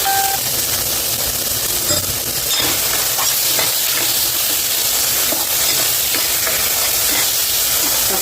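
Tomatoes sauté in a pan for a vegetable kuzhambu, giving a loud, steady hissing sizzle throughout, with occasional light clicks from stirring.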